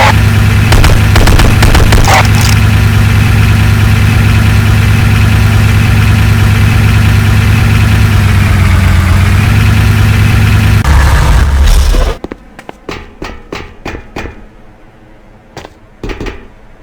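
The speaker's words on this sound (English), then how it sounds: "Take the Humvee around the entire track to complete the next objective." A Humvee in the Renegade game tutorial idles loudly with a steady low engine rumble that shifts as it drives, then cuts off abruptly, leaving quieter scattered clicks and taps.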